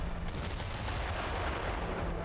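Mortar fire in the video game DooM: The Dark Ages, a dense, continuous barrage of booming blasts and rumbling gunfire-like crackle that stays loud and steady throughout.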